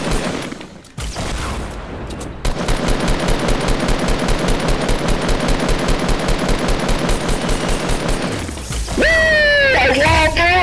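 Rapid automatic gunfire rattles in dense, evenly spaced bursts during a Fortnite solo match, close and loud, with a short pause before it starts and shrill game sounds at the end.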